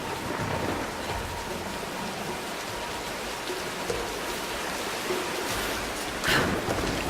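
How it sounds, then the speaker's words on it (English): Steady rain and storm ambience from the video game Tomb Raider (2013), a continuous broadband downpour wash with a brief louder gust or rumble near the end, no voices. "let's wait out the storm"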